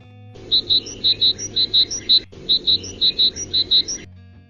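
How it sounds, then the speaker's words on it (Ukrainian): A magpie gives rapid, repeated harsh chattering calls in two quick bursts separated by a brief pause, clear and close. "Сорока скрекоче."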